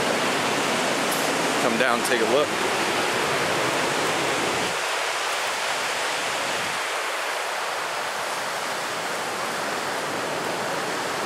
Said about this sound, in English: Heard the little waterfall here